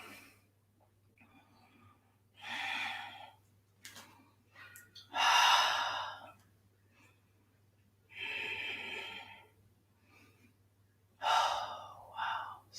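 Deep, audible breaths from people in a beginner yoga class, slow drawn-out inhales and exhales coming in long waves a few seconds apart over a low steady hum.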